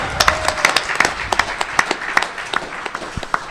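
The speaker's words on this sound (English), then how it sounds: "Give yourselves a round of applause, ladies and gentlemen." Applause from a comic convention panel audience at ECCC 2014, with distinct sharp claps standing out over a busy crowd patter, moderately loud and close, with little talk over it.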